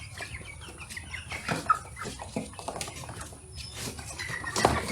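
Hens cluck and murmur in short, scattered calls amid rustling and shuffling, fairly quiet and close, with no speech.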